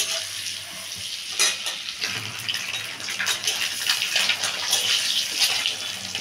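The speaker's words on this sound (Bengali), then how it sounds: "তারপর ডিমগুলো ভাজা হয়ে এসছে" Eggs frying in hot oil in a pan for an egg curry, a steady bright sizzle with crackling bursts and occasional stirring scrapes throughout.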